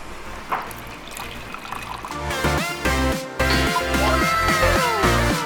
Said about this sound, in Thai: เราจะใช้น้ำร้อนนะคะเราบิดมาที่น้ำร้อนเลยแล้วเราจะกด